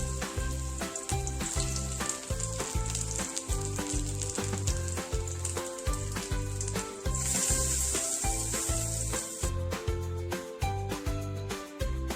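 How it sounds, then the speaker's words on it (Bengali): Grated ginger, garlic and chopped onion frying in oil in a wok, a loud steady sizzle heard up close, with rhythmic stirring throughout and a brief hiss flaring near the end. "কড়াইতে তেল দিয়ে গ্রেট করা আদা, রসুন ও পেঁয়াজ কুচি একটু ভেজে নিলাম।"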